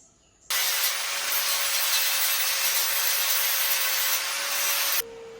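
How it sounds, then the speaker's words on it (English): An angle grinder grinds down the bottom tack weld on a steel pipe welding test piece, a loud, steady, close whine that starts abruptly, holds for about four and a half seconds, then cuts off. "Before put the root, you have to grind the bottom tack little bit."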